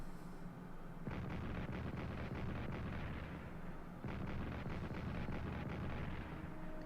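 Artillery barrages in the WWI strategy game Strategic Command: World War I, two dense bursts of rapid rumbling cannon fire with a brief lull between, loud and continuous with no talk.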